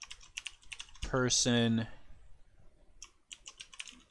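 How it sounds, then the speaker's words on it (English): Quick, light clicks of typing on a computer keyboard, close and crisp, broken by a brief spoken word in the middle before the keystrokes resume. "I'm going to type that in"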